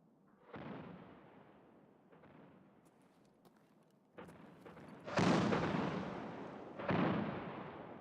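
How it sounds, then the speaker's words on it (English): Mortar artillery strikes in the shooter game Escape From Tarkov, heard as a series of distant booming impacts that get louder and rumble out, with the biggest blasts landing near the end and no voices. "Where are the mortars hitting?"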